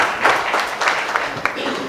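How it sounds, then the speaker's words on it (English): An audience at a quiz competition breaks into a short burst of scattered clapping, moderately loud and close, lasting about two seconds. "Guys, why don't we clap?"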